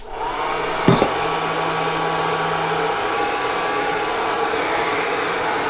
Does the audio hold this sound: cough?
no